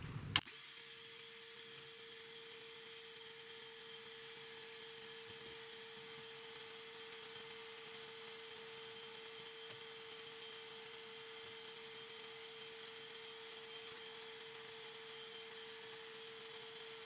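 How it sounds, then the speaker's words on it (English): A shop vac starts with a brief thump, then runs as a steady, moderately quiet motor whine for a long stretch while fruit flies are sucked out of a worm bin. "All right, shop vac ready to go."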